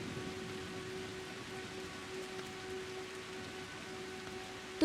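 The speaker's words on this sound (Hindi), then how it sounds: "वो क्या है कि बारिश होने लगी" Steady rain falling outside a house at night, a soft, even hiss with no break, and a faint tonal hum beneath it.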